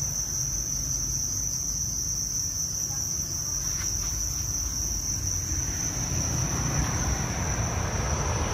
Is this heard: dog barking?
no